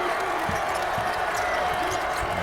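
Missouri fans at an NCAA 2009 basketball game cheer as a steady crowd roar, with a few ball bounces and thumps on the court, and a commentator talking over it.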